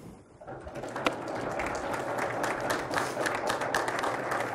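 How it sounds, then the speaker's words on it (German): Audience applause following a university farewell lecture on sales, a dense wash of many hands clapping that swells in after a quiet start and holds steady and fairly loud throughout. "Applaus"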